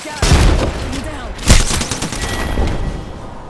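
Apex Legends gunfire cracks in loud bursts of rapid automatic shots with a heavy boom, punchy and close amid the game's mix.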